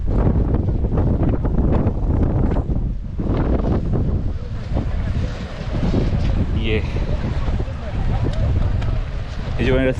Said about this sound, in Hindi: आप देख रहे हो कि कितनी तेज़ बारिश, कितनी तेज़ हवा चल रही है यहाँ पे।